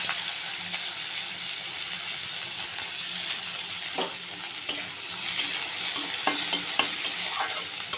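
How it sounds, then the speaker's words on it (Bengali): Chopped onions fry in hot oil in a wok, tossed in after a tempering of black cumin seeds, giving a steady sizzle with scattered stirring scrapes and clinks throughout. "পেঁয়াজটা একটু ভাজা ভাজা করে নেব।"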